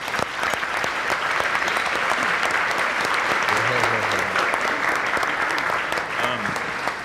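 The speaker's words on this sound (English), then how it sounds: "So let's have a round of applause for all of them." Sustained loud applause from a large audience, steady clapping throughout with faint voices beneath it.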